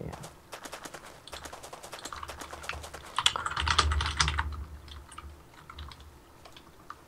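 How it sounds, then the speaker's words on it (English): Rapid, dense keystrokes clatter on a computer keyboard throughout, building into a furious burst of hammering in the middle before easing back to steady typing, with faint voice murmurs underneath. "That was my keyboard finger rage."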